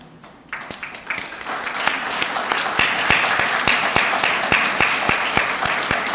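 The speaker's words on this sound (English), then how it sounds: "Graduate students, you need to be clapping hard." Audience at a Southeastern Louisiana University MBA graduation ceremony breaks into steady applause after a quiet start, many hands clapping at a sustained, fairly loud level with sharp individual claps standing out.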